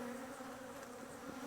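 Honey bees drone steadily around pulled hive frames during a July honey harvest, a continuous low hum held close and even with no talk over it.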